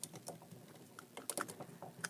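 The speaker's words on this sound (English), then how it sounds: "You also hear those nice ratchets in the shoulders too." Shoulder ratchet joints on a Daca Toys Kronos action figure click as the arms are moved, giving a series of quiet, sharp, closely spaced clicks with small gaps between bursts and no voices.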